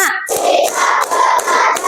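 A class of students claps together in loud bursts with short breaks between them, close and energetic, with no talking.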